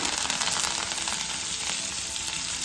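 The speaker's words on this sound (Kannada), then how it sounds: "ಈಗ ಕರಿಬೇವಿನ ಸೊಪ್ಪನ್ನ ಎಣ್ಣೆ ಒಳಗೆ ಹಾಕೋಬೇಕು ರೀ" Curry leaves sizzle steadily in hot oil for a Kannada tomato sambar, a bright, close, continuous frying hiss with no pauses and no voices.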